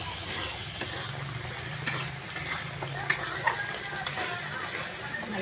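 Chili paste with ginger and garlic paste fries in a pan for a jackfruit and prawn curry, with a continuous close sizzle and occasional sharp scrapes and clicks of stirring.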